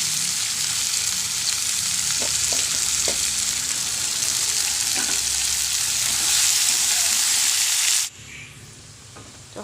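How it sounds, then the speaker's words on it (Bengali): Potatoes fry in a pan with a loud, steady hiss of hot oil and a few faint utensil taps, until the sizzle abruptly drops to a quiet murmur near the end. "আলুটা ভেজে নেব"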